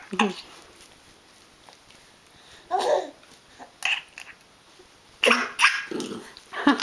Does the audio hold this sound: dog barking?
yes